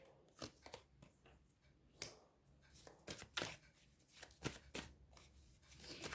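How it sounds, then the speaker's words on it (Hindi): A deck of tarot cards gets shuffled close up, each pass making a crisp riffling burst, with about a dozen bursts coming at an uneven pace and nobody talking. "कार्ड्स को डियर पहले एक बार शफल करके निकाल लेती हूँ"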